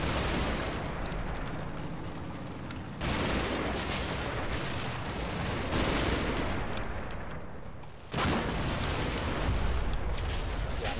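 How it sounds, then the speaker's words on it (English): Sustained machine gun suppressive fire in a video game, loud dense bursts of rapid shots that stop briefly at two points before resuming, with no voices. "I'm putting so much suppressive fire down"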